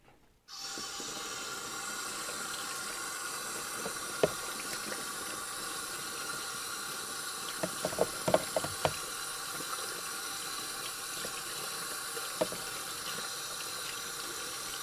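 Steady running water from a tap rinses a Turner 4 1/2 smoothing plane in a sink, a constant close hiss broken by a few sharp clinks and knocks of metal against the basin.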